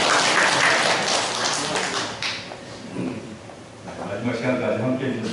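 Members of a church congregation applaud one another with brisk, fairly close clapping that fades and then returns, while someone talks over it.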